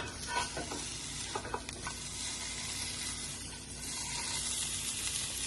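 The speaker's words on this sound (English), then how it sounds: "Now we've got the pan, nice cast iron skillet, nice and hot. We're going to sear it." Rack of lamb searing in a hot cast iron skillet, a continuous close hiss and crackle with some scraping and handling noises early on, heard alone without talk.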